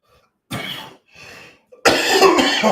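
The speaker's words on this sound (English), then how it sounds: "Don't mean to cough in your ear." Several harsh coughs up close: two quick bursts, then a longer, louder fit of coughing.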